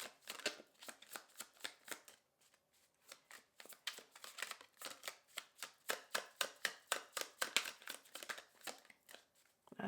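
A deck of tarot cards is shuffled repeatedly, a rapid run of crisp riffling flutters with short pauses between passes, close and fairly quiet.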